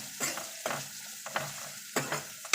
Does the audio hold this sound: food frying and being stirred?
yes